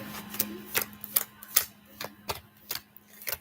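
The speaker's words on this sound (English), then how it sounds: "I'm finishing shuffling up from my Gemini reading I just finished." Tarot cards are shuffled by hand indoors, giving a steady series of crisp flicking taps about three per second, close and clear over a faint low hum.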